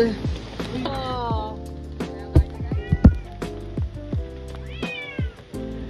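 A cat meows repeatedly at close range, its cries rising and falling in rhythm, with people talking alongside it in a riverside outdoor setting.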